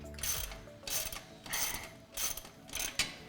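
A ratchet tightening an exhaust band clamp on a 2015-2019 Ford F-150 cat-back exhaust install, five quick rhythmic bursts of ratchet clicking, close and fairly quiet.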